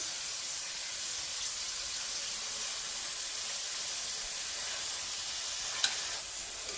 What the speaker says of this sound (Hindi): एक चम्मच इसमें मैं फ्रेश कुटा हुआ लहसुन डाल रही हूँ।